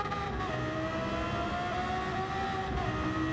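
A Porsche Carrera GT in Gran Turismo 7 pulls out of the pits at Tokyo Expressway, its engine holding a loud, steady, rising drone with a slight whine layered over it.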